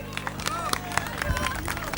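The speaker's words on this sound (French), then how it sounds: "Voilà, on l'applaudit." A racecourse crowd at the Compiègne hippodrome applauds the winning jockey, a dense patter of clapping with scattered cheers, heard under a voice speaking over the sound system.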